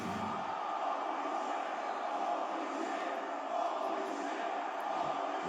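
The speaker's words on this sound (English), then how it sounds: "Y'all hear the crowd?" A video game crowd in AEW Fight Forever keeps up a steady, even roar of cheering throughout a wrestling match, with no clear individual voices standing out.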